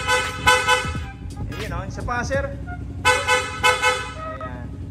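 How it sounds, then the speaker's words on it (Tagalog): Aftermarket horn on a Yamaha Sniper 155 motorcycle blares in several loud, close, steady honks, two bursts near the start and a double blast later, with someone talking in between. "Ganon din po sa busina, no?"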